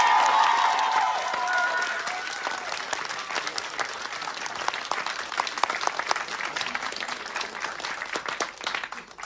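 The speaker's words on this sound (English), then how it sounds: "So big round of applause for Cath." An audience at a community show applauds for an organiser, with a loud burst of clapping that settles into steady, continuing applause with faint cheering mixed in.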